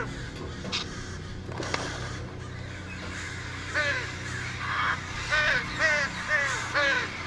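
A flock of crows caws repeatedly inside the VR game Fowl Play, the harsh calls growing louder and denser in a run of overlapping bursts over a low ambient rumble.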